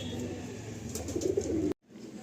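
A Madrasi pigeon coos in a low, steady, throaty burble close by, then cuts off abruptly, with faint talk in the background.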